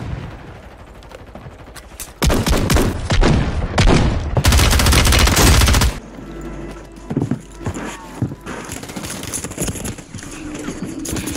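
Rapid bursts of light machine gun fire in the video game Warzone 3 ring out loud and dense in two long volleys, followed by quieter scattered shots and game sounds.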